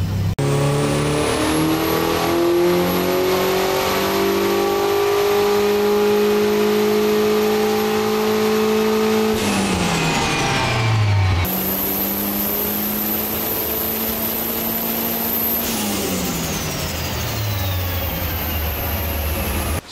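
A turbocharged Volvo S40 with a Holset HX40 turbo runs on a dyno, the engine rising steadily in pitch through the gears with a loud high turbo whine, then a brief drop and another hard sustained pull, close and continuous.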